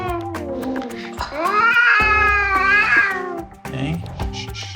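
A Persian cat meows long and drawn out during a vet examination, its wavering cry rising and falling loudly and close, followed by shorter broken mews.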